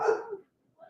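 A puppy gives a short bark or yip indoors in a hallway, a single close, loud burst that fades quickly into silence before a faint sound resumes.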